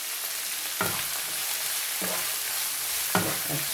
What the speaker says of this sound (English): So in my golden brown onions, I'm gonna add the sukuma wiki